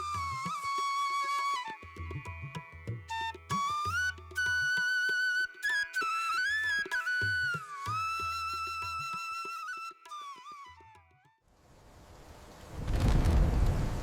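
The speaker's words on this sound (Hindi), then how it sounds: "कुछ दिनों बाद अचानक अच्छी बारिश हुई।" Cartoon rain and thunder for a village farming story arrive after a stretch of whistly music: a brief pause, then a loud, rumbling burst of storm noise near the end.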